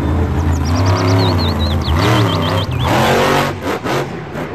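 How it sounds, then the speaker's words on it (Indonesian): A toy monster truck plays a loud electronic engine-revving sound effect with rising and falling whines and chirpy tones, heard close and alone for several seconds. "Mobil truk monster."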